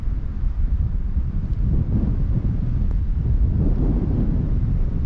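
Strong wind gusts across open hilltop ground on Shutlingsloe in the Peak District's Macclesfield Forest. The wind buffets the microphone with a steady, loud, low rumble for the whole stretch, and no voices are heard.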